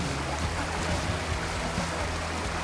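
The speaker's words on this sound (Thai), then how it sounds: "แหล่งน้ำไหลอย่างนี้ สดชื่นครับ" Stream water flowing steadily in a natural outdoor setting, a continuous close broadband rush and burble with no pauses and no voices.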